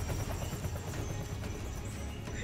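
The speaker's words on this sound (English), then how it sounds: "Here comes the helicopter." A helicopter in the video game Primal Carnage Extinction: a continuous dense rotor roar with low, throbbing pulses, steady and fairly loud throughout, with no talking.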